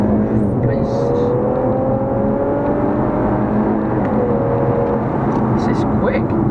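An Infiniti Q60S Turbo accelerates with a steady, fairly quiet engine drone rising gently in pitch, heard from inside the car as someone talks over it.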